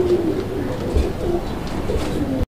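Pigeons of large Bengali breeds kept for sale, such as Raj-golla and Madrasi-golla, coo in low, repeated throaty phrases close by, several calls overlapping in a steady rhythm with no talk.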